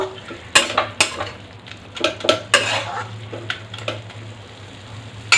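Red spinach fry with sesame being stirred in a pan after sugar is added: repeated sharp spatula knocks and scrapes against the pan over a soft sizzle, close and fairly loud, irregular in rhythm.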